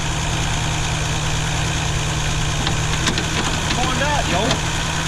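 Engine of a 1982 Ford Sierra Ghia that hasn't been driven in years, idling with a steady, loud low rumble throughout, with a faint mechanical clatter near the end.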